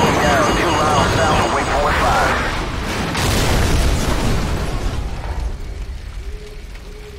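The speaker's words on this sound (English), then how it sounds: "Incoming missile!" A missile explosion in the military shooter Call of Duty 4: Modern Warfare, a loud roaring blast with rumbling debris and aircraft noise, fading over several seconds as voices shout over it.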